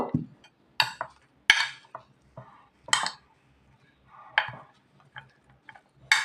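Vegetables mixed with mustard oil in a bowl, giving a series of separate scraping and clinking strokes, close and moderately loud, with short quiet gaps between them.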